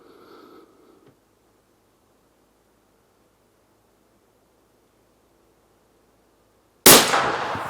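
A Blaser K95 single-shot rifle fires a Gecko 165-grain bullet: one sharp, loud report bursts in after several seconds of near silence and rings off in a decaying tail.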